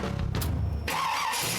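A car with Borla mufflers fires up with a sudden throaty burst after a brief crank, then settles into a rough rumbling idle, close and fairly loud.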